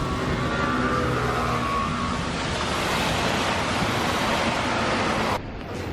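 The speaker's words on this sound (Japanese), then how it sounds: "海荒れてる。" Rough sea waves crash and roar continuously along the rainy, windy coast near San Sebastián, a loud broad wash of surf with wind buffeting the microphone, cutting off abruptly near the end.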